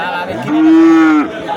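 A Sahiwal cow at a village cattle market gives one loud, near moo of just over half a second, rising out of faint background crowd noise.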